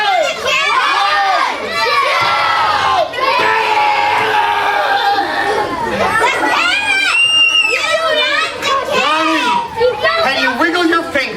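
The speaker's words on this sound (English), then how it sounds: "Everybody, please count to 3 as loud as you can." A crowd of children at a summer camp magic show shouts together in loud, excited unison, their high voices overlapping and filling the room at close range.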